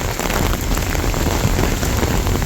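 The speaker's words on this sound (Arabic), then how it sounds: "والآن بدأت أمطار غزيرة يا جماعة الخير" Heavy rain pours down in Mecca as a dense, loud, continuous hiss of drops striking surfaces, steady throughout with no pauses.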